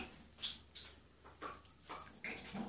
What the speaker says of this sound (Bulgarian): И сипвам 1 чаша вода. 1 чаша студена вода.